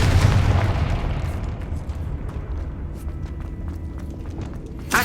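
A Confringo fire spell explodes in Hogwarts Legacy, one heavy boom at the start that trails off into a crackling, rumbling decay, with small sharp pops scattered through the tail and another thump at the very end.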